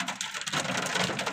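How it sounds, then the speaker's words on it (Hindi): Hail falls hard and fast in a dense, steady patter, briefly and close by, with no talking. "ओले पड़ रहे हैं जी बहुत स्पीड के साथ"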